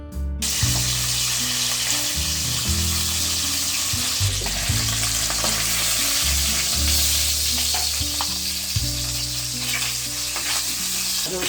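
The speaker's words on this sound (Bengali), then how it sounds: "তেল গরম হয়ে গেছে এখন আমি এক এক করে মাছগুলো দিয়ে দিচ্ছি" Loud, constant sizzle of tangra fish frying in hot oil, crackling close up with steady spattering and a low musical hum underneath.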